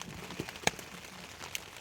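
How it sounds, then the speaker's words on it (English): Rain pattering on a camping tent along the Appalachian Trail, a soft steady patter with a few sharper drop taps, quiet and close, with no talking. "I'm sitting in here in the rain eating a block of cheese, waiting for my food to cook."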